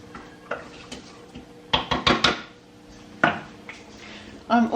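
A spoon knocks and scrapes around a pot of mixed bean casserole with smoky barbecue flavour and dried herbs, giving a few sharp, irregular clinks and clusters of taps close by.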